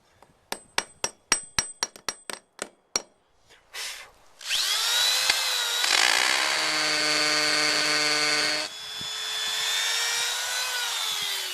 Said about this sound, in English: Now we want to take a minute to chip this up where it's got a little high spot